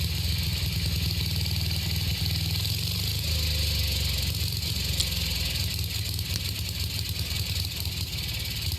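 A vintage 1966 Simplicity Sovereign lawn tractor's Briggs points engine idles low, producing a steady, fairly quiet rumbling putter with an even, continuous rhythm.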